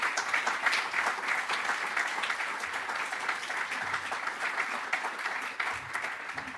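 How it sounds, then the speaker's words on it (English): At an alumni reunion summit, an audience claps for an organiser and her team, a continuous, even round of applause heard from within the room. "please join me in a round of applause for Nena Gracheva and her team."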